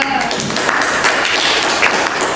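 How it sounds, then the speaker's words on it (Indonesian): A secondary-school class applauds a student group after their presentation, a dense, steady patter of many hands clapping throughout, with faint voices underneath. "Tepuk tangan untuk kelompok 2"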